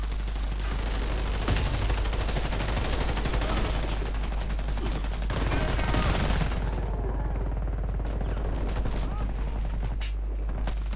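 Rapid gunfire crackles in a multiplayer shooter video game, dense bursts of automatic shots rattling continuously at close range, with players talking over the action.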